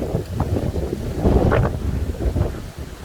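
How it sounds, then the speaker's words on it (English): Desert wind buffets a microphone outdoors at the Primm outlet mall in Primm, Nevada, in low, rumbling gusts that swell and fade, with no voices. "we apologize if the wind kind of picks up here in this video while we're outdoors here"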